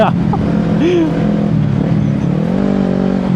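A Kawasaki Ninja 300 motorcycle engine drones steadily while being ridden, loud and close, with a humming, buzzy tone that shifts slightly in pitch as the revs change.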